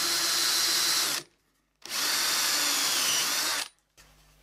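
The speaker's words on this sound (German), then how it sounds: "die Stäbe, die sind jetzt alle gebohrt, vorne wie hinten" A power drill boring holes into wooden rods for a shoe rack, two loud sustained whirring runs of about a second and a half each separated by a short silence, close up and alone.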